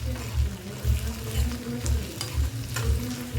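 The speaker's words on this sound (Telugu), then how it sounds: "వేసుకున్నాక ఒకసారి అంతా కలుపుకొని మూత పెట్టి మగ్గించుకుందాం" Potato and tomato curry gets stirred in a pan, a steady loud sizzle of frying with repeated scraping strokes of the spoon in a regular rhythm, close up and without talking.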